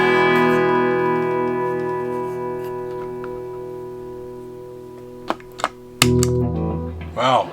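An Electro Harmonix Howitzer 15-watt guitar amplifier with its reverb turned up, a sustained chord ringing out and slowly fading, then a few sharp knocks and a renewed bass-heavy strum near the end.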